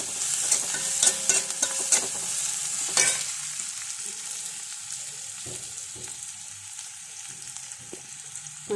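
Onion frying in a pan while being stirred, with a steady close sizzle and a run of scraping, clattering stirring strokes early on before the sizzle carries on alone.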